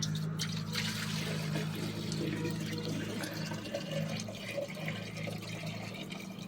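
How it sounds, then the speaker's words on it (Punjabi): Water being poured into a pigeon water container in a loft, a steady gushing, splashing fill heard up close over a low background hum, continuous throughout. "ਹੁਣ ਪਾਉਂਦੇ ਆ ਇਹਦੇ ਚ ਪਾਣੀ"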